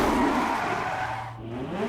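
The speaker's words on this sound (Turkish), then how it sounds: "Güzel drift attın ha. Güzel, arabamız güzel kayıyor." A car drifts in The Crew racing game, its tires squealing in a long sliding skid under a droning engine, with a rising whine as it pulls out of the slide.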